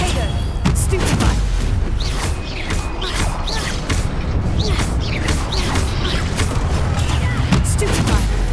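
Stupefy spells fire during combat in the video game Hogwarts Legacy, loud repeated booming blasts and crackling impacts layered over dense, continuous battle noise.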